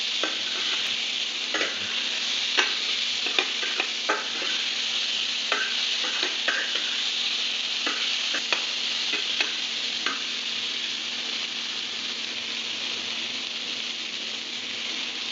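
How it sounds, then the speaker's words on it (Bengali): Young jackfruit curry with spices frying on low flame in a wok, a continuous moderate sizzle with frequent sharp scrapes and knocks of a spoon stirring, no talk. "এঁচুরটাকে কড়াইতে লো ফ্লেমের মধ্যে ফাটে করবে তখন একটু সাবধানে না লাগে নাড়ে"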